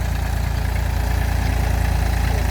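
A 39 hp Mahindra Tu275 tractor diesel engine idles close by, loud and steady with a fast, even low throb, no voices.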